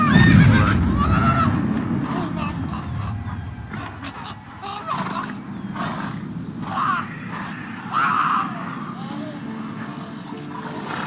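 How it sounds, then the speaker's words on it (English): In The Witcher 3 video game, a horse gives a loud snorting whinny at the start, then hooves clop and further neighs follow amid ambient game sound, with a voice speaking over it. "Whoa there, Roach"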